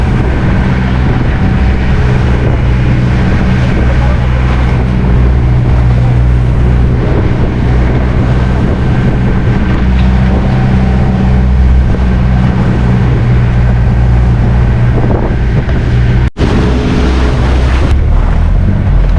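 Loud, constant low rumble of a small outrigger boat's engine on rough sea near Burias Island, with rushing water and wind buffeting the microphone as big waves rock the tilting hull.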